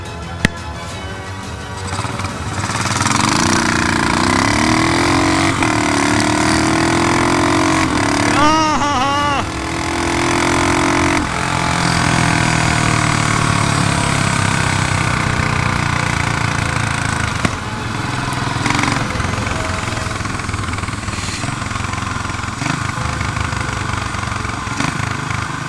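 A BMW E46 engine revs hard for burnouts, a loud sustained roar that climbs and falls in pitch over several long pulls, with voices talking briefly over it.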